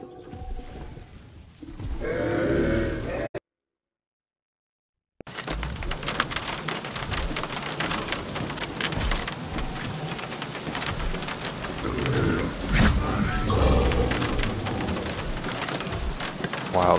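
Rainstorm in the video game Jurassic World Evolution: heavy, continuous rain pattering loudly on surfaces with low thunder rumbles, briefly cut to silence before the downpour resumes at full strength.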